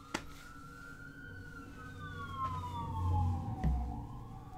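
Emergency vehicle sirens go off outside, a faint wailing tone sliding up and down in the distance over low traffic rumble and a few soft knocks nearby.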